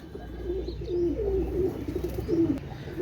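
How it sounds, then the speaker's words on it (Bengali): A pair of Pakistani Sialkoti pigeons, a male and a female, coo in repeated throaty phrases, heard close and steady over a low background rumble. "এক জোড়া পাকিস্তানি শিয়ালকুঠি কবুতর"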